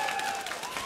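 A packed arena crowd at a League of Legends esports match between CLG and Dignitas applauds and cheers in a steady dense wash, with a faint tonal hum under it.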